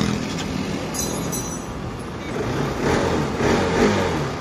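An engine starts and settles into running after a new regulator is fitted, a continuous mechanical rumble that swells slightly toward the end, with a voice speaking briefly over it.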